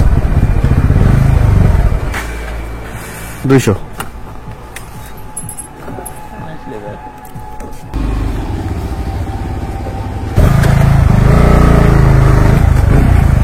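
A motorcycle that had kept stalling and refusing to start on the way to a fuel pump now runs steadily with a loud, low engine rumble that drops back for a few seconds and then swells again, with a person talking over it.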